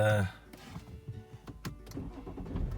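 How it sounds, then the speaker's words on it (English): A BMW 530d with an N57 diesel engine fires up with a loud, brief burst, then settles into a steady, close diesel running sound for the rest of the moment. "I didn't really want to start the engine"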